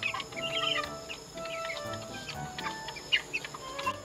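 Backyard chickens, grown from chicks, cluck and call in a steady mix of short notes and brief chirps, fairly close, with a low background hum and a few sharper calls near the end.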